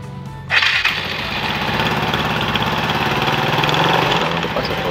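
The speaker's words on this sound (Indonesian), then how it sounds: "Ini kita coba nyalakan ya mesinnya." Yamaha Mio Sporty scooter with a tuned CVT, its engine starting with a quick burst and then settling into a loud, steady, close idle that runs on evenly.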